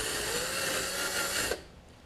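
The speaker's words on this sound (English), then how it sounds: "The drill works. You don't want to go too heavy on this because" Power drill spinning a wire brush to scrub residue off a part from a Snapper RER mower, a steady close abrasive whir that runs for about a second and a half before cutting off to quieter room noise.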